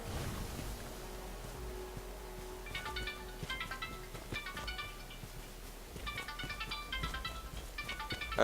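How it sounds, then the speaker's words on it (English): A phone ringtone repeats in several short patterned bursts over a game's low background ambience, moderately loud and close, with no talking. "thanks phone for ruining my recording"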